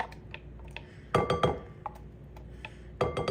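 Hellmann's mayonnaise spooned into a bowl for coleslaw, with soft scrapes and a few sharp clinks of a spoon against the bowl, quiet and close, with no talking.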